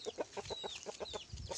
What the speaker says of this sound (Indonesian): Ini ada ayam besar banget.